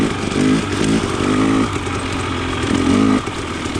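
A KTM 300 XC TPI two-stroke dirt bike with a low compression head insert revs hard on a muddy trail, its engine buzzing loud and close, rising and falling through throttle blips.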